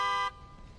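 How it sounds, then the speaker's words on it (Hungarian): A car horn sounds in the horror video game The Evil Within 2 as one loud, steady blast lasting under a third of a second, then cuts off abruptly, leaving a quiet background. "Dudálni tudok vele"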